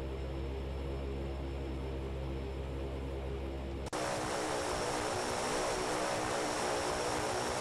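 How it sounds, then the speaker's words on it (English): Thranda Quest Kodiak propeller aircraft taxiing in a flight simulator game, a steady droning engine hum that jumps abruptly halfway through to a louder, broadband propeller roar and holds there. "we're gonna taxi down to runway 19"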